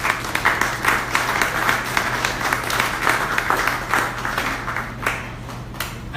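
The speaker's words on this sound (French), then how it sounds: "Je vous demande à l'applaudisser" An audience at a photography festival in Haiti applauds steadily for several seconds, a dense patter of many hands over a low constant hum, thinning slightly toward the end.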